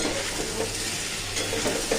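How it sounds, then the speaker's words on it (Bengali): Potatoes fry in a pan while a soybean curry is being cooked, giving a steady, even sizzle with faint stirring that lasts throughout. "আলুটাও ভাজা ভাজা হয়ে গেছে"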